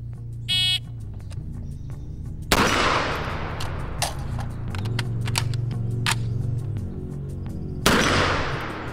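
A BRN-180 rifle chambered in 7.62x39 firing outdoors: two loud, sharp gunshots several seconds apart with echoing tails, over a faint steady hum, preceded by a brief electronic beep.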